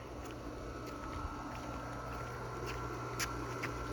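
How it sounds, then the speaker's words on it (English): An above-ground pool pump running beside a cinder block pool, a steady low hum with faint water trickling and light outdoor noise, heard alone. "It's just an above ground pool pump, largely."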